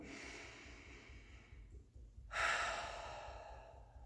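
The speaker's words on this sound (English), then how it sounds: "big breath in and out" A person takes one deep breath, a long inhale followed by an audible, breathy exhale, close and clear during a calm tapping exercise.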